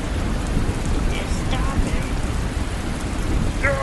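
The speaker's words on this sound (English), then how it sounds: "you can stop fighting because it's raining" Steady rain pours down outdoors during a rained-out cricket match, a dense continuous hiss with faint distant sounds in the background.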